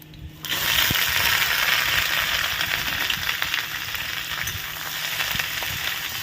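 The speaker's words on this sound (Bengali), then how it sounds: "সুন্দর ভাজা ভাজা করে হবে," Kochur loti (taro stolons) fry in a pan in a rural Bengali kitchen, giving a steady, loud crackling sizzle that holds for several seconds, with small scattered pops and no talking.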